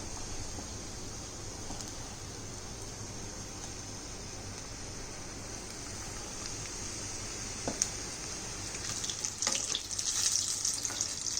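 Steady crackling sizzle of batter-dipped chicken vada frying in hot oil on a low flame, continuous and close, with a few light clinks toward the end.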